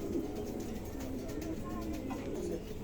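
Two pigeons coo close by in soft, low, repeated throaty calls that continue steadily with a gentle rhythm throughout.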